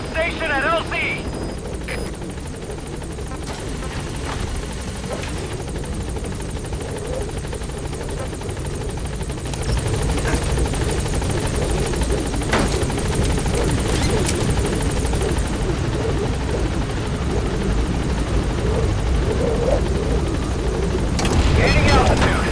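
Helicopter hovering at a landing zone in Metal Gear Solid V, a loud steady rotor roar and engine drone that holds throughout and swells slightly near the end, with game sounds mixed in.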